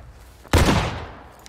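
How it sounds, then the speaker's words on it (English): A single loud musket volley in War of Rights, an abrupt close crack that swells into a rolling roar and fades over about a second, with faint quiet before it. "You gotta volley fire into that bush."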